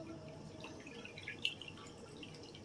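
Water dripping during siphoning of a turtle aquarium, a few faint, close drips over a low steady background, one sharper drop standing out midway.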